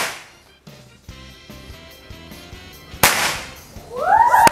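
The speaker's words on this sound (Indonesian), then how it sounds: "Dalam hitungan ketiga, penembak akan langsung menembakkan target yang ada di depan." Air rifles fire at targets in a shooting contest, a few sharp cracks spread across several seconds, the loudest near the three-second mark, with a ringing metallic ping from a struck target at the end.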